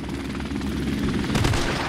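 Helicopter in Call of Duty: Modern Warfare Remastered during a Team Deathmatch on the Ambush map, a steady loud rotor and engine drone that runs through the whole moment with game noise underneath.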